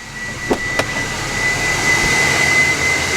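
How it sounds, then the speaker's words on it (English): Turbo whine from an L5P Duramax diesel pickup with a muffler, a steady high-pitched tone that rises and holds over a low engine rumble, with two short knocks early on. "You hear that turbo?"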